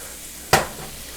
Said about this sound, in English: Now I'm going to dump all my vegetables in here